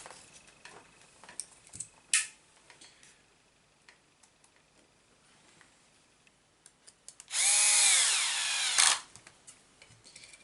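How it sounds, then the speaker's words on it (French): A power screwdriver drives 3x6 screws into a Hobao DC1 RC crawler chassis. After quiet handling noises and a couple of clicks, there is one loud, close whirring burst lasting about a second and a half. "Ça c'est vissé avec des vis de 3x6."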